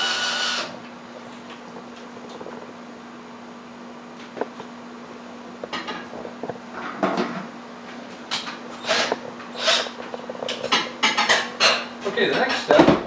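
Homebrew is stirred in a fermenting vessel. After a quiet, steady hum, close irregular scraping knocks and clunks build up over the second half.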